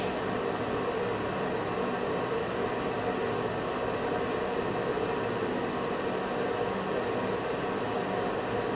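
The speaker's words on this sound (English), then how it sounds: "I'm gonna start blowing on in the holes here. I'm gonna use this rubber tipped blow gun." Compressed air hisses steadily from a rubber-tipped blow gun as it clears the passages of a carburetor from a Polaris Ranger 500, a broad continuous rushing noise held at constant loudness, close and alone without speech.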